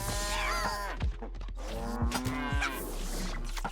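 A cartoon cow moos loudly and up close in the South Park Phone Destroyer video game, several drawn-out lowing calls in quick succession over a steady game hum.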